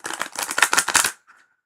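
A quick burst of rapid crisp flutters as tarot cards are riffled and shuffled up close, stopping after about a second.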